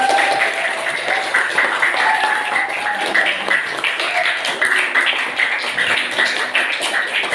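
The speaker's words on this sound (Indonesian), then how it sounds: "Kasih aplaus untuk temannya." A classroom audience applauds a student group after its presentation, with dense, steady clapping that holds for several seconds without pause.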